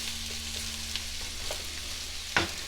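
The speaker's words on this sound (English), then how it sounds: "I'm going to throw the mushrooms in at the same time. We're going to let this cook." Mushrooms fry quietly in a stir-fry pan, giving a soft, steady sizzle with a few small clicks and one louder scrape near the end. There is no talking.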